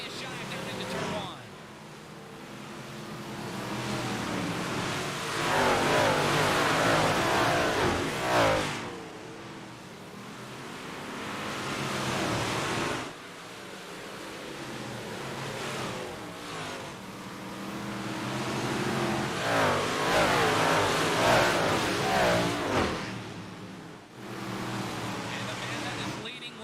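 Big block modified race cars from the iRacing sim roar around a tacky dirt track during a night heat race, a dense pack of engines swelling and fading in long waves as they charge into the turns.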